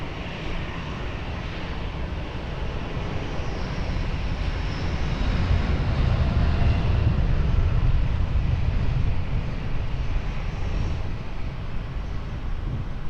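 A plane on approach to runway 20 at Lisbon Airport, its engine roar a steady broadband rumble that swells through the middle of the approach and then eases slightly, alone with no talk.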